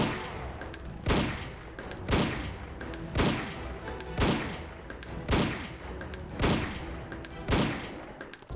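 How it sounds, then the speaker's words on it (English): Gunshots in the horror video game Heaven Dust, about eight loud sharp shots fired at a steady pace roughly a second apart, each ringing out briefly, with no talking. "And now he should go down in just a few more shots."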